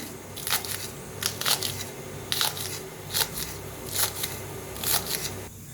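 A knife chops through spring onion greens in short bursts of crisp, crunchy cuts, about six clusters at an uneven pace, close and clear with no one talking.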